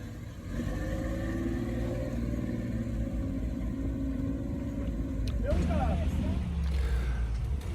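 A Jeep engine runs on the Kane Creek off-road trail as a steady, loud mid-range drone, then revs up near the end.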